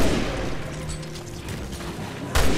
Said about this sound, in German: So, ein Schuss noch mit dem Gewehr.